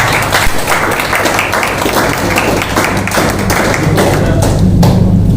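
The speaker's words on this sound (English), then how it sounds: "I would like a huge round of applause for these guys." Audience at a college media club event applauds the student presenters, a loud, dense, continuous round of clapping close by, with thumping hand claps running steadily through the whole stretch.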